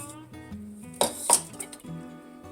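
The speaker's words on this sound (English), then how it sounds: "So I am breaking the egg into a different container just in case." An egg cracked against a container and dropped in while making a sweet potato casserole, giving a few sharp clinks and taps around the middle over steady background music.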